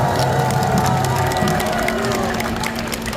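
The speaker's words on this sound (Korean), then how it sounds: "여러분 오늘 밤에 잠을 잘 주무실 수 있도록 박수 크게 한번 보내주세요" A crowd at an outdoor political campaign rally on a shopping street cheers and claps loudly, a dense continuous roar of voices and applause with shouts mixed in.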